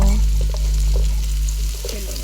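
Salt is stirred into vegetables frying for egg noodles, producing a close, loud sizzle with soft scraping stirs and a low hum beneath it.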